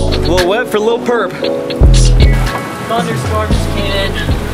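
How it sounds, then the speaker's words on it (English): Heavy thunderstorm rain pours down steadily and loudly, drumming on surfaces, while people talk and call out over the downpour. "Thunderstorm just came in"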